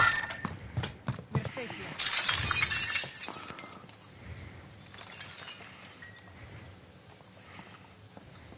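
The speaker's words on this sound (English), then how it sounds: "Heard a glass break." Glass window shattering in a team shooter video game: a loud, bright crash with scattering shards around two seconds in, amid gunfire-like thumps and players talking over the game audio.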